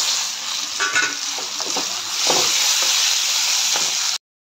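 Onions and tomatoes fry in a pan, a steady close sizzle broken by several scraping stirs, cutting off abruptly at the end.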